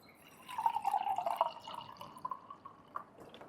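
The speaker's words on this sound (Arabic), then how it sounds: "بصوا احط هنا شوية لبن." Milk pours in a short, thin stream into a small cup beside a De'Longhi Dedica EC685 espresso machine, a faint trickling splash that tapers off into a few light drips, quiet and close, with nobody talking.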